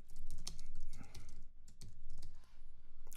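Fast typing on a computer keyboard: bursts of crisp key clicks in short runs with brief pauses, close and clear, with no talk.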